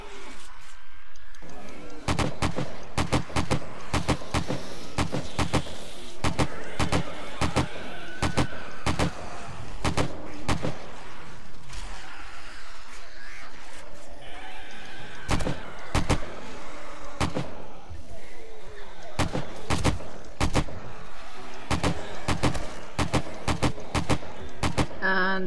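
AK rifle fire in the zombie game 7 Days to Die during a horde night, sharp shots in irregular bursts and singles across the whole stretch, loud against a noisy game background.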